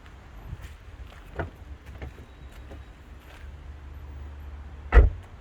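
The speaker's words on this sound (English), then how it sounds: "you have to do the door shut sound test" A Subaru Forester XT door with pillarless frameless windows shuts once with a single sharp, solid thud near the end, after soft handling and rustle sounds in a quiet setting.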